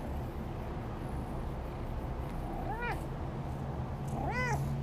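A cat gives two short meows a second or so apart, moderately close, over a steady low background hum and rumble.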